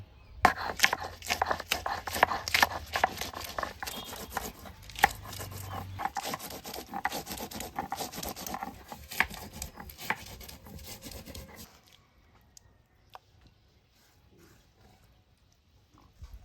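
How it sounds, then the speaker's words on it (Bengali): Dried chilli, green chilli, ginger, garlic and cumin are ground together into a paste on a stone, a steady close rhythmic rasping and rubbing that runs continuously, then stops, leaving quiet background. "শুকনা লঙ্কা কাঁচা লঙ্কা আদা রসুন আর জিরা একসঙ্গে ভালো করে বাটি নিব"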